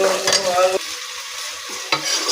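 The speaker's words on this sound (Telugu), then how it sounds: "ఇందులో టమాటా కూడా వేసి బాగా వేయించుకోవాలండి" Tomato and spices fry and get stirred in a pan for a fish curry, with loud scraping stirs in separate bursts over a steady sizzle, close up.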